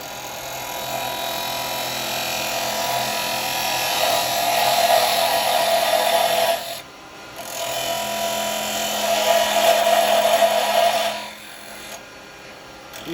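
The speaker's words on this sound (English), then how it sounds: "I'm going to come in and do my little tenon." A wood lathe turns a toothpick holder while a tool cuts a tenon, giving a steady whining hum in two long passes, each about five seconds, with a brief pause between them and no talk.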